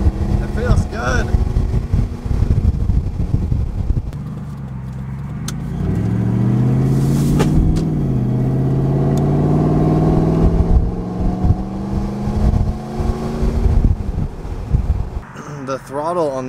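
A Lexus GX470 SUV with a freshly tuned engine drives around a block, its low steady engine drone and road rumble rising and holding throughout, with a voice talking over it at the start and end.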